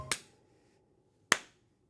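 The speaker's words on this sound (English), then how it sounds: "You ever clap and it sounds like your hands are small?" Two single hand claps, crisp and close, about a second apart, each one short with a quick fade into near silence.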